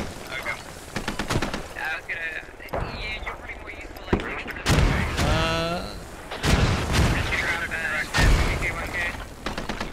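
Mortar rounds and gunfire boom and crack in the Squad military shooter, with sharp blasts scattered irregularly over the battlefield while players talk over the noise.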